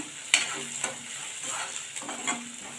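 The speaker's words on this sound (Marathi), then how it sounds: "कांदा चांगला मऊ होईपर्यंत परतून घेऊया" Onion and curry leaves with a pinch of asafoetida sauté in a pan for a potato and field bean curry: a close, steady sizzle broken by several scraping stirs of a spoon, with no voices.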